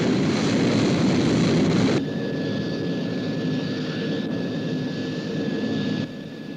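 Fictional SHADO Sky 1 aircraft in flight, a steady broadband engine roar with a thin high whine, loud and continuous, dropping in level partway through and again near the end, with no talk.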